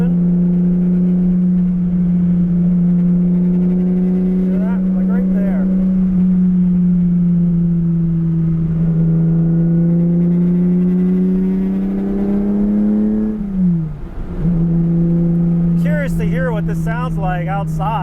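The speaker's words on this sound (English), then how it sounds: "this is pretty loud inside the car" Ferrari 365 GTC4 engine heard from inside the cabin while driving, a loud steady low drone that holds pitch, dips sharply near the end as revs drop, then climbs again, with someone talking over it.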